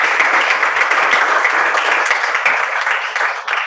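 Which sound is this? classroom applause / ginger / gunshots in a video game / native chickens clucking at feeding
classroom applause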